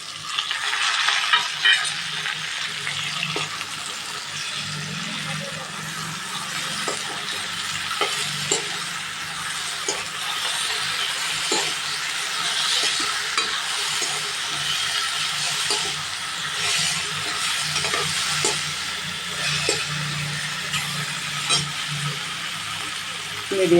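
Ridge gourd and tomato fry over medium heat in a pan, sizzling steadily while a utensil stirs and scrapes in frequent light clinks, close and continuous.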